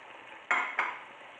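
Chopped onion, carrots, courgette and potatoes are stirred together in a pot, giving two quick scraping strokes of a utensil against the metal over a faint background hiss, close and fairly loud.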